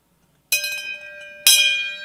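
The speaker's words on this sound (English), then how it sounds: "a bell that will be employed as needed" Two bright metallic bell strikes about a second apart, each ringing with a sustained tone that slowly decays; near and clear, no talking.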